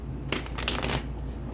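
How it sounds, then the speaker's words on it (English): A deck of tarot cards is shuffled by hand in one quick, close riffle lasting under a second, standing alone against a quiet room. "One more shuffle, Leo."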